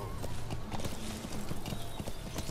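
Horse galloping in the video game Metal Gear Solid V, steady rapid clip-clop hoofbeats in a continuous rhythm, close and moderately loud with no voices.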